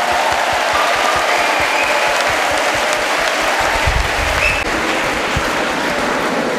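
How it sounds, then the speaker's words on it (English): A hall full of people at an anti-ragging and anti-drug awareness program applauds, a dense, loud, sustained wash of clapping that continues evenly throughout. "by a huge round of applause."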